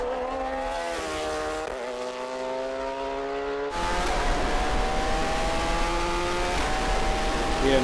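A Koenigsegg Jesko and a tuned Hayabusa motorcycle drag racing, a steady high engine whine that jumps abruptly into a louder, rougher roar of hard acceleration that holds to the end.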